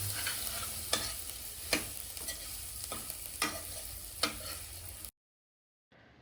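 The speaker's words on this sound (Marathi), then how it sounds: "आता त्यात फ्लेवरसाठी किसून घेतलेलं आलं टाकून छान परतून घेतलंय." Grated ginger sizzling in a hot oil tempering for dal tadka, a soft steady frying hiss punctuated by about six sharp spoon scrapes against the pan, close and quiet, ending abruptly.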